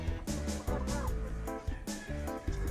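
Backyard chickens at a drinking dish of malunggay juice give close, repeated clucking and throaty calls in short bursts; no drinking sound stands out.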